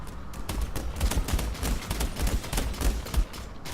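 Gunfire in the Overwatch video game: dense, sustained volleys of sharp, rapid shots crackling continuously at close range, with heavy low thumps mixed through the barrage and no speech over it.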